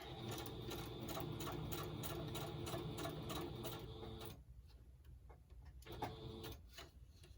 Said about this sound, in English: It's hard to sew things on your machine when they're odd shapes